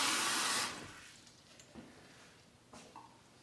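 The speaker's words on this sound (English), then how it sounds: "What you do, just fill it with hot water." Hot water poured into a skull-shaped shaving brush cup, a short loud rushing splash in the first half second that quickly drops away, followed by a few faint clinks and taps in a quiet room.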